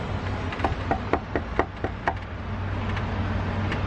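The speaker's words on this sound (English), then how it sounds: "Like knock, knock, knocking on George Washington's door." Knocking on a wooden door: a series of sharp, distinct raps in irregular groups, fairly close, with a final knock after a short pause, over steady low background noise.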